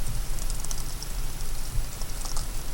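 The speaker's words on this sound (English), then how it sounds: "Got some raindrops falling out of the trees." Scattered raindrops drip from trees in West Virginia woods during rifle season after heavy rain, irregular light taps and patters over a steady outdoor hiss, near and fairly faint.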